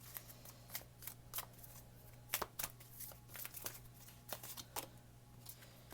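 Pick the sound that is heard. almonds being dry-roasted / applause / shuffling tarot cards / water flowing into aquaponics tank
shuffling tarot cards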